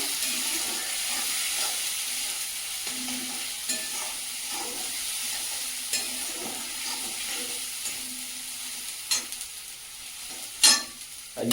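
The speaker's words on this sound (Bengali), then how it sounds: "আদা রসুন ভালোভাবে ভাজা হয়ে গেছে" Ginger and garlic fry in a pan with a steady close sizzle while being stirred, and scraping clinks of the spoon grow sharper toward the end.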